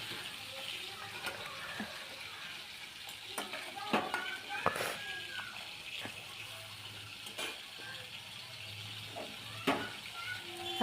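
Prawns frying with cinnamon, cardamom, peppercorns, ginger-garlic paste and tomato paste: a soft continuous sizzle under sporadic sharp scraping clicks of a spoon against the pan, faint and close.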